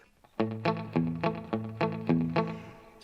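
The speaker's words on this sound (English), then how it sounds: "Add the compression for the spank. And then of course my slapback." An electric guitar with a country tone, run through reverb, compression and slapback echo, plays a short run of crisp, snappy plucked notes, each followed by a quick repeat. No talking is heard.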